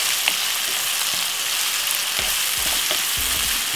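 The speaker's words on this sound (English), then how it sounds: "So we're gonna allow this to fry up for about 4 to 5 minutes until the veg cook" Vegetables with fresh thyme frying in a pan, a steady close sizzle with a few soft scrapes and knocks of stirring near the end.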